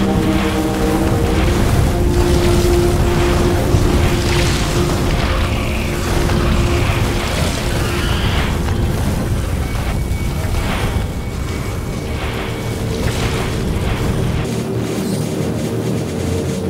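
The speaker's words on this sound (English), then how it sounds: "Eat rockets, you biter scum!" Rockets fired and exploding against biters in a video game, a dense continuous rumble of booming blasts and low roar that fills the whole stretch loudly, with no pauses.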